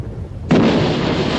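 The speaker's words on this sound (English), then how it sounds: "The coastal defences open fire," Close, loud artillery fire from World War I coastal defences, a sudden heavy blast whose rumbling roar sustains after it, with no talk.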